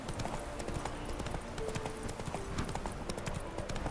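Roach the horse galloping in The Witcher 3, rapid rhythmic hoof clip-clop pounding steadily and close, with faint background game sounds.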